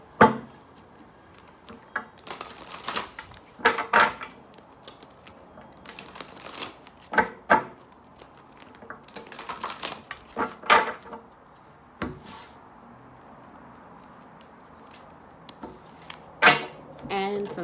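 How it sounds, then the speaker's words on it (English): Gaia Oracle and Psychic Tarot cards being shuffled and drawn, with scattered papery slaps, riffles and soft knocks in irregular bursts, close by, separated by quiet gaps. "I'm going to pull a final outcome card from the Gaia Oracle."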